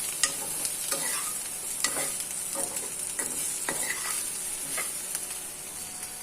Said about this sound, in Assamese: তাৰপিছত মই আকৌ লাহে লাহে মিক্স কৰিম।